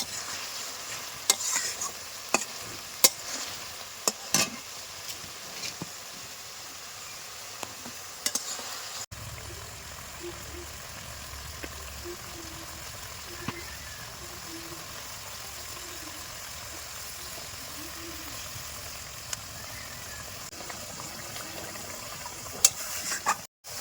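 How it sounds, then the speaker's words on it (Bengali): Fresh pond bata fish frying in spice masala, being stirred in the pan over a village clay stove; steady sizzle with scraping stir clicks, busier in the first half, then a softer, even frying hiss. "মাছগুলো মশলার মধ্যে কষে নিতে হবে"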